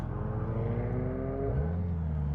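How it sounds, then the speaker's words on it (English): A McLaren sports car passes close by, its engine note rising then dropping sharply in pitch as it goes by, a strong continuous roar over a low rumble of a motorcycle ride. "A fucking McLaren, did you see that bad boy?"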